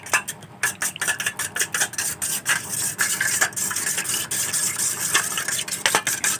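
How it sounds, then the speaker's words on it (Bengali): A utensil whisks beaten eggs with a little salt in a bowl, giving rapid, steady clinking and scraping strokes, close and fairly loud, with no talking. "অল্প একটু পরিমাণে নুন দিয়ে আমরা ডিমগুলোকে ভালো করে এরকম করে ঘেটে নেব।"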